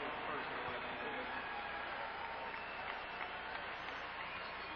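An NBA basketball arena crowd stays on its feet applauding, a steady wash of clapping and crowd noise that never lets up and sounds somewhat distant and muffled.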